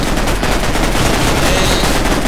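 Rapid, sustained automatic fire from a fast-reload rifle in the Minecraft Mine-Strike shooter, loud and close, a continuous stream of shots with no pauses.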